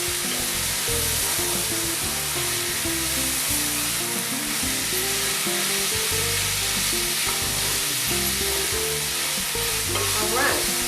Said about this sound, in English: in goes my cubed lamb. Give it a good stir